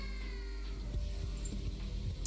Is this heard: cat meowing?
yes